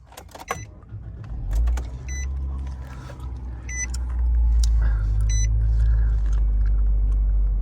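Key ignition start of a 2019 Nissan Versa Note: a few key jingles and chimes, then the starter cranks and the engine catches into a loud, steady idle rumble close by.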